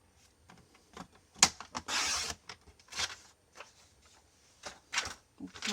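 Paper being cut into a 6 cm strip for handmade card making, in short scraping and snipping bursts with brief pauses, close and fairly quiet.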